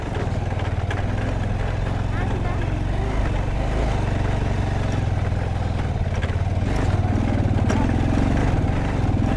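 A motorcycle is ridden over a rough, bumpy road, with a loud, steady engine drone close up, mixed with constant rattling and clattering from the uneven surface.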